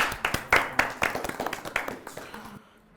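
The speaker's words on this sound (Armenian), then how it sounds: "Կարող եք ծափահարել հարցին" A quiz-show audience applauds after a question, with a burst of scattered, fairly close claps that rises quickly and then thins out and fades within a few seconds.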